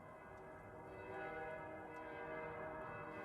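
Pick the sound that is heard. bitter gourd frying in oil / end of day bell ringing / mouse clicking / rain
end of day bell ringing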